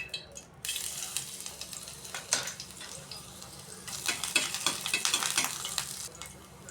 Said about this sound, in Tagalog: Nagisa tayo ng bawang,